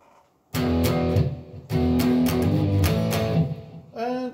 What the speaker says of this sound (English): So it just gives that sort of distorted hard rock sound